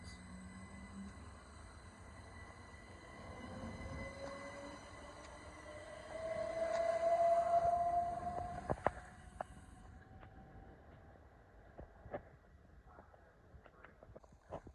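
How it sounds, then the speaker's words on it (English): A Thameslink Class 700 passenger train with a little graffiti runs through Gillingham station, a steady rolling rumble swelling to a loud peak as it passes close, with a rising whine and sharp wheel and rail clicks as it fades. "here we have the 1132 Thameslink service from Gravesend to Raynham"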